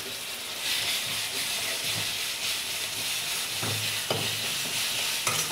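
Ginger garlic paste sizzling with roasted onions in a pan for aloo kurma, a steady hissing fry under intermittent scraping stirs and a couple of utensil knocks, close and without speech.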